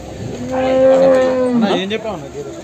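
A Murrah dairy buffalo gives one loud, drawn-out moo that bends in pitch at the end, close by at the Kondamadugu Tuesday cattle market, with a faint background murmur.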